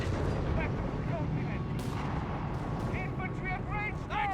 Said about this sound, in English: I'm guessing Nebelwerfers rather than Stooks here out of Calosios